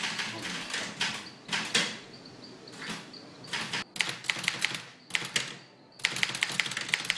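An old manual typewriter being typed on by a bishop, producing close clattering bursts of keystrokes broken by short pauses and a faint carriage bell-like ring, with a voice briefly audible in the background.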